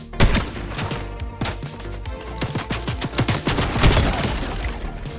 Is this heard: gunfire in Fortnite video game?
yes